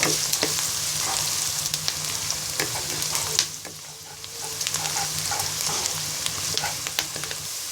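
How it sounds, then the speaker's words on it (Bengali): Chopped onions and sliced green chilies fry in hot oil, crackling and sizzling continuously up close, with occasional clicks of a spatula stirring through the pan and no one talking. "এবার পেঁয়াজটাকে ব্রাউন কালার করে ভেজে নিব"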